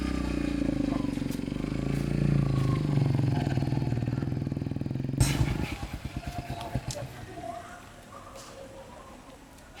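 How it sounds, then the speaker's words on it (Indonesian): A Kawasaki W175 motorcycle with a newly fitted engine guard runs steadily up close, then shifts to a rougher, pulsing idle-like chug as the rider sets off on a test ride. "ownernya langsung test ride motornya"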